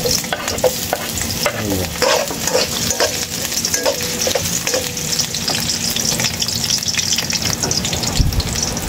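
Ginger fries in hot oil in a pan, a loud continuous close sizzle with scraping stir strokes and utensil taps throughout; a voice briefly speaks.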